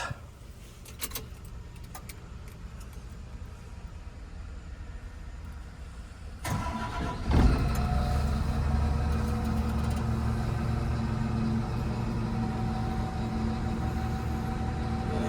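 A crane truck's diesel engine sits idling quietly, then starts up about halfway through with a sharp burst and settles into a steady, louder low rumble close by, with no talking.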